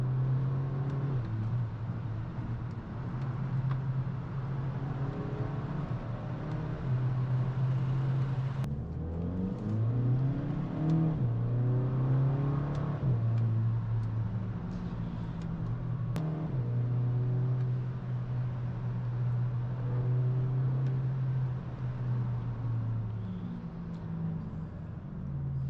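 Rebuilt VW Golf 5 GTI with DSG gearbox on a drive, the engine humming steadily from inside the cabin, rising briefly as it accelerates and shifts before settling back into an even drone.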